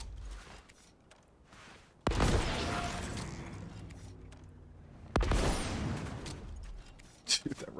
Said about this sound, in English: I'll use this rocket launcher for movement.